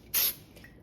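Baker's Joy baking release spray hisses in one short, close burst into the bottom of a silicone brownie pan, then cuts off to quiet.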